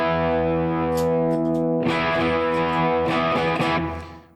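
Electric guitar through a NuX Trident multi-effects unit on a Blue Driver-style overdrive, a sustained distorted chord ringing out, then a burst of gritty strummed chords, loud and close before fading.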